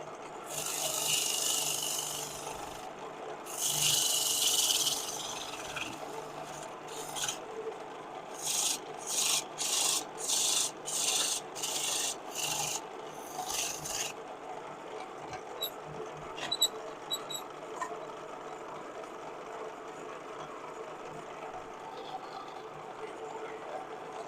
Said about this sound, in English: I'll be using my spindle gouge,